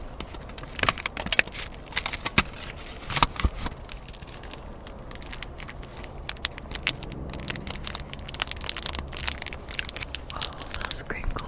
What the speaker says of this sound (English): I hope you enjoyed these crinkle sounds